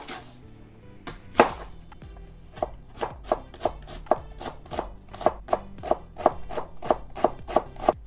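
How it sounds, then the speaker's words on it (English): A shallot being finely chopped with a knife on a board: about fifteen sharp, close knocks that start sparse and settle into a quick, even rhythm over a faint low background. "To that I'm going to be adding 1 finely chopped shallot."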